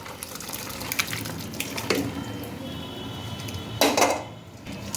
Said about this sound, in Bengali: এটাকে আমি এখন ছেঁকে নেব। এরকম ছাঁকনিতে ছেঁকে নেবেন।